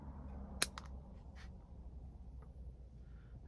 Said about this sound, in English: Just gonna snip back this long root right there.